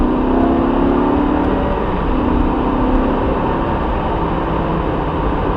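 A supercar engine accelerates on a race track, with a loud, steady drone and a rising tone under throttle that continues throughout, with no talking.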